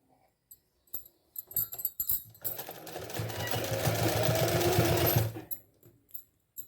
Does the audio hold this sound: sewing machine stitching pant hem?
yes